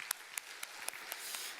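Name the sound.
church congregation applauding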